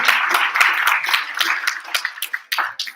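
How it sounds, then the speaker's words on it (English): An audience at an English public speaking competition applauds loudly and steadily, with dense clapping filling the whole stretch up close. "we're going to give a big applause, a round of applause for them"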